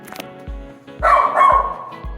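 Dog barking near and loud: a quick yip, then a sustained bark-howl followed by another, with rhythmic low thuds underneath.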